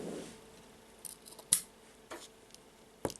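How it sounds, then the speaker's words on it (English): Scissors snip through knotted friendship bracelet cords, a few sharp, quiet metallic clicks spread over a few seconds in a quiet room. "now I will take the scissors and cut"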